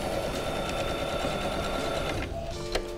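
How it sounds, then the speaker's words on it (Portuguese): Sewing machine stitching a straight seam, a fast, steady mechanical whirr of needle strokes close up that stops abruptly near the end, leaving a faint hum and a click. "A gente, tá com zigue-zague, vamos voltar pro ponto reto. Ó. Passei uma costura."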